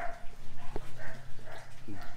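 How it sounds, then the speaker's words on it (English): A few dog barks ring out, with a short sharp bark in the middle and softer yips around it, fairly close and moderately loud. "Dogs are barking."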